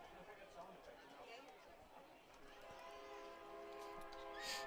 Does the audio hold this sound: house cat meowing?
no